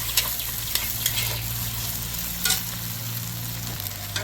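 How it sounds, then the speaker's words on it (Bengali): Green chili paste and spices frying in a pan for chicken kasha, a constant dense sizzle with a steady low hum beneath and a few soft stirring clicks, close and without talk. "এই কষা মাংসটা খেলে মশলাটা ভালো করে এভাবে ভেজে নেবেন"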